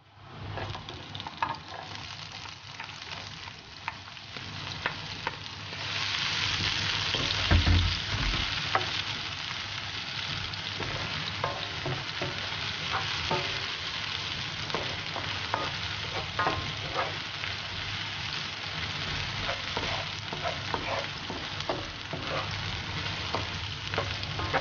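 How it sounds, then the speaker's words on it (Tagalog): Onions frying in a pan for seafood spaghetti, a steady close sizzle that swells after a few seconds, with intermittent stirring clatter and scraping of a utensil against the pan. "Lutuin lang natin ng konti yung sibuyas"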